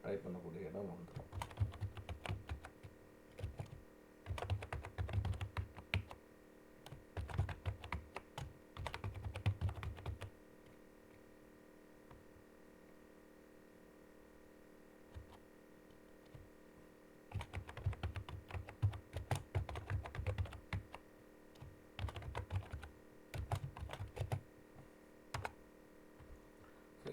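Someone types on a computer keyboard while filling in a table, with bursts of rapid key clicks separated by pauses. A soft voice murmurs underneath.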